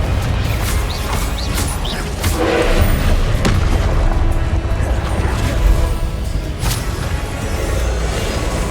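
Confringo blasting-curse explosions in the Hogwarts Legacy video game: loud, dense booming blasts and crashing impacts under a constant heavy rumble, with sharp hits recurring throughout.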